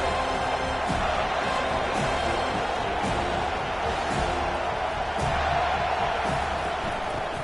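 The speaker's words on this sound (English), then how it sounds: "Decibels rising as the crowd gets behind this defense on third down." Steady stadium crowd roar from the Madden American football video game, rising behind the defense on third down, a dense continuous wash of cheering throughout with faint periodic thumps.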